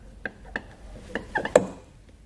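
A trim panel tool prying a taillight reflector out of a 2019 BMW X3, heard as a handful of close plastic clicks and snaps, the last ones louder as the piece pops free.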